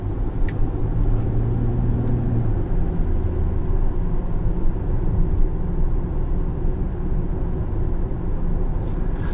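Inside a 2017 Infiniti QX70 cruising on the road, a steady low rumble of engine and tyres fills the cabin with a constant, smooth road noise and no talk.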